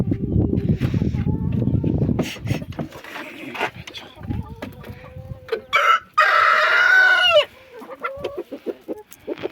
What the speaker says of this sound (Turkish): Saldırgan horoz.